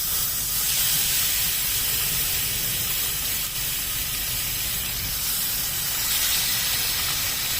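Fish sizzles on a hot grill with a loud, continuous hiss that stays steady throughout, close up with no talking.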